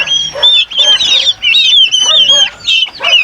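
Farm turkeys gobble and cluck in repeated bursts close by, loud squawking calls coming in several rapid groups with short pauses between.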